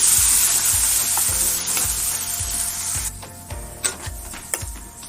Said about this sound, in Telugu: మసాలా వేగేంత వరకు ఉంచుకొని వేగాక చికెన్ వేసుకోవాలి.